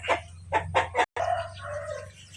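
Fighting cocks in their coops crow and cluck, several loud bursts in quick succession, with one more drawn-out call at the end, close by and with no talk over them.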